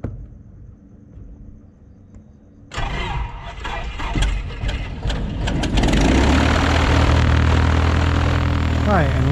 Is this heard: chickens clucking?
no